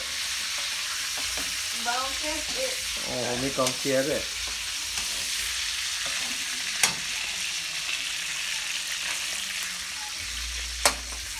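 Steady hissing sizzle of pork frying in a pan, with brief voices talking over it and a couple of sharp clinks.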